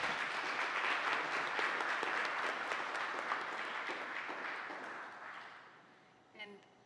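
Audience applauding at a temple anniversary celebration, a steady wash of many hands clapping that gradually fades, ending with a brief murmur of voices.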